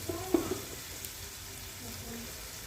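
Onions and tomatoes fry and get stirred in a pan for an egg-and-onion dish, a low steady sizzle broken by a few soft knocks and scrapes early on, quiet and close.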